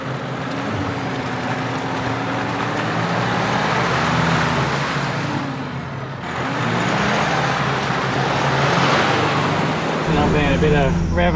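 Off-road vehicle engine revving and roaring through a sloshy, slippery, rutted mud hole on a track in Barrington Tops National Park, a loud continuous engine and splashing roar that swells twice, with voices talking over it.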